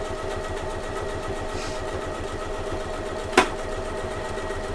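An Elna 780 Plus sewing machine stitching a bag, a steady, close mechanical whir with a fast even rhythm, broken by one brief sharp click partway through.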